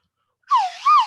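A slide whistle, sounded as a spoiler horn, gives two short whistling tones. The first glides down and the second swoops back up, loud and clear after a moment of silence.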